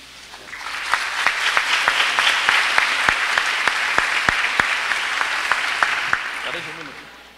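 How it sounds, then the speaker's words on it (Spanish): Audience applause at a SENA graduation ceremony, a moderate crowd clapping steadily with several distinct sharp claps standing out, rising quickly and then tapering with murmuring voices at the end. "darle también un fuerte aplauso a este señor"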